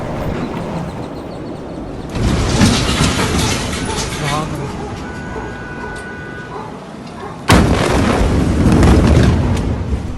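A massive, devastating explosion in Beirut, Lebanon erupts as a sudden, loud, broadband roar that holds for several seconds, then a second violent burst hits later, with voices heard amid the rumbling chaos.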